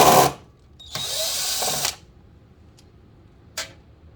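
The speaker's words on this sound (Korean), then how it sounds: "나사가 왼쪽에 3개, 오른쪽에 3개가 있습니다. 저는 일단 왼쪽 거 풀 거예요." Power screwdriver backing screws out of a Fuji Xerox DocuCentre V C5576 copier: a whirring burst of about a second, preceded and followed by short clicks and a brief final buzz, close and alone in a quiet room.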